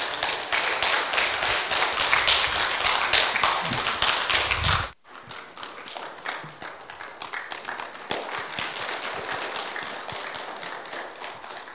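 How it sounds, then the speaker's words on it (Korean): A church congregation claps in broad, steady applause to welcome a pastor to the pulpit, the dense clapping briefly cut off mid-way and then resuming, fairly loud and close throughout. "우리 다 같이 이용순 목사님 강단에 모실 때 우리 박수로 환영하겠습니다"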